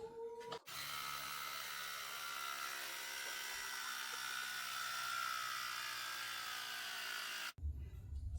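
A Cyclami AM6 mini electric air pump runs continuously for about seven seconds, a steady high buzzing whine with a click at switch-on and switch-off.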